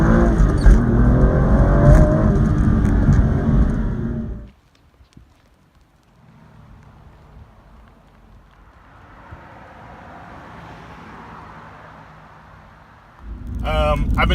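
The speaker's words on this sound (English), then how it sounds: "It makes it a lot louder on acceleration." A 2012 Aston Martin V12 Vantage with a 6-speed manual accelerates hard, a loud close-up engine roar that cuts off abruptly into a quiet stretch of road and cabin noise before the engine surges again.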